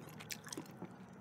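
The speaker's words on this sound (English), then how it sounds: "let's do some gum chewing and tapping on some game cases" Gum is chewed close to the microphone in a quiet room, giving a few soft, wet chomps and small crunchy clicks at an uneven pace.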